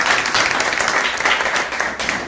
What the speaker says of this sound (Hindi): ताली बजाइए एक बार इनके लिए।